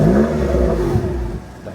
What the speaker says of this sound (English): Let me also let you hear the exhaust.